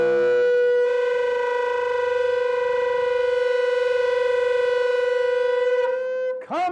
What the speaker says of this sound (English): this is the Sound of the Shofar.